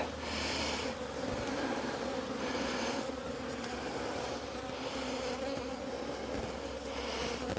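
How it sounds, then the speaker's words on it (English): Dense, steady buzzing of many agitated honey bees close by during a hive box swap, a continuous loud drone with no voices. "Lots of angry bees."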